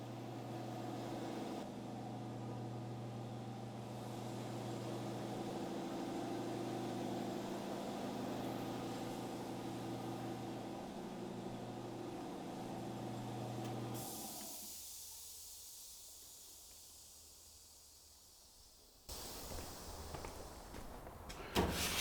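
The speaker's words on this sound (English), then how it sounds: "we'll just wait for this compressor to kick off" An air compressor in a hot rod fabrication workshop runs with a steady low drone and hum for about fourteen seconds, then shuts off, leaving a quieter shop before other noises return near the end.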